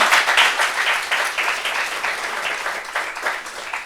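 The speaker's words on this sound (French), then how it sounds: "On peut applaudir pour elle," An audience applauds for a young woman at a gathering of people recovering from miscarriage, a steady round of clapping with a few brighter bursts, fairly close and lasting throughout without talk.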